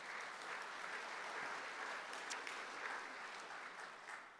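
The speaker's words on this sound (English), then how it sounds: "Round of applause for our members here tonight and those supporting us." Faint applause from an evening audience at a Town Hall talk, a soft, even patter of clapping heard at a distance and sustained for several seconds.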